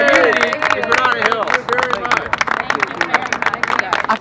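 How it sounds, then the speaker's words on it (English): Community audience in Granada Hills clapping and murmuring at a food truck safety event, a steady round of applause with dense crowd chatter and scattered voices throughout. "So a round of applause for our DOT leaders and the community in Granada Hills."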